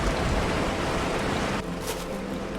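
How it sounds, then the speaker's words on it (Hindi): Steady rain keeps falling, a dense broadband wash that holds constant, then softens slightly partway through and carries on without pause. No voices are present. "बारिश अब भी जारी है।"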